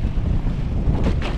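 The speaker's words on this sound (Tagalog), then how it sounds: "Medyo mahangin ngayon" Gusty sea wind rumbles against the microphone on a fishing boat, with a couple of brief splashing swells rising near the end; no one speaks.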